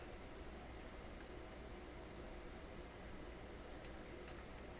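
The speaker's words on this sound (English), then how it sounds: "Just a very faint hiss coming out of it" A very quiet, steady hiss of static from a Zenith Royal 46 transistor radio under repair, continuing evenly throughout, with no tones or voices.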